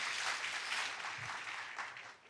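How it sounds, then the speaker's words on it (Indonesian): A church congregation claps enthusiastically during an online worship service at MDC Surabaya, a dense, steady burst of many hands that stays loud and even for the whole stretch, with no voices over it. "Berikan tepuk tangan yang paling meriah saudaraku"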